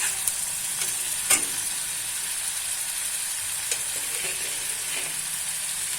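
Onion and ginger frying in a pan, a continuous soft sizzle with a few sharp scraping clicks of a spoon stirring, close and alone without talk.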